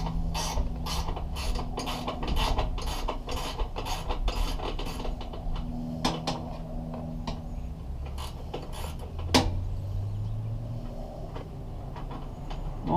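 A hand ratchet loosens bolts on a 5th wheel dual electric landing-gear jack, a rapid series of clicking strokes close up, then metallic creaks and scrapes with a sharper knock near the end.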